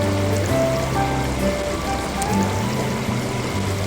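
Steady broadband rush of a mountain river stream near a waterfall in green hills at Kedung Kayang, Magelang, with continuous flowing water and faint tonal hum in the background, no talking.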